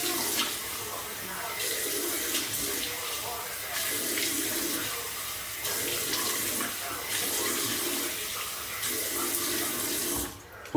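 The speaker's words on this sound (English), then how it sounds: "Cold water rinse." Cold tap water runs steadily into a sink while a shaving brush is rinsed, a continuous splashing hiss with small shifts in flow before the water cuts off at the end.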